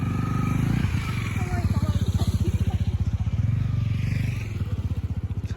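A motorcycle at a Japanese biker hangout rumbles nearby with a rapid, pulsing engine beat that steadies and throbs for several seconds, close and moderately loud, with faint voices in the background.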